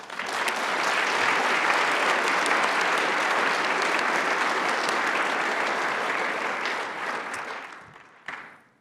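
Audience at a formal awards gala breaks into sustained, loud applause that holds steady for several seconds, then tapers off near the end with a final stray clap.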